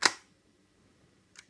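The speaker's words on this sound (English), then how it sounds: "when you press the release button" The shutter of a vintage Zorki 4 rangefinder camera fires at 1/500 second with one sharp, close mechanical snap. A faint second click follows about a second later, with quiet in between.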